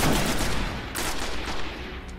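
Gunfire in the video game Destiny during a beta test match, a dense burst of shots packed together at the start and then quieter scattered reports, all loud and close with no talking.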